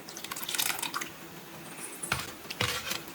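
Water is poured over spinach and dal in a pressure cooker, giving soft wet splashes and drips with two sharper pours near the end, close and fairly quiet.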